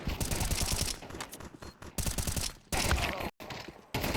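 Rifle fire in a Counter-Strike esports match on the Ancient map, rapid bursts of automatic gunshots with short gaps, loud and close, with a brief silent break near the end.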